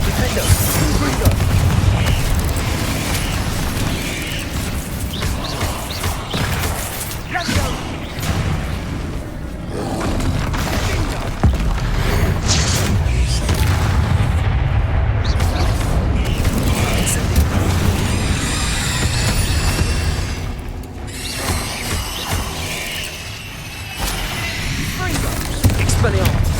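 Spell blasts and Confringo explosions in Hogwarts Legacy on Xbox Series X: a dense, unbroken barrage of booms, roars and crackling impacts that barely lets up, with voices mixed in.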